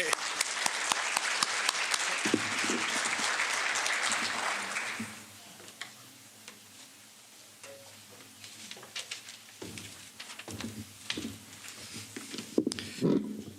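Applause fills a school ceremony for rising sophomores, a dense wash of many hands for about five seconds before it fades away. Scattered clatter and soft room noise follow, with a voice speaking near the end.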